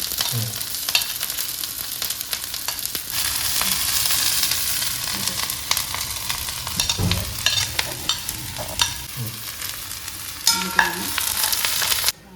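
Garlic and ginger sizzle steadily in a pan for a Kerala lemon pickle, a continuous bright hiss broken by occasional scrapes and stirring knocks, close and even.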